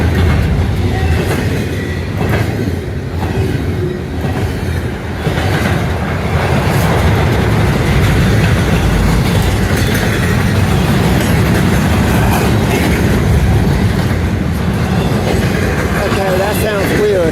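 A container freight train runs past on a single track near Harper's Ferry, West Virginia, a loud continuous rumble with wheel clatter that holds steady for the whole stretch, close by.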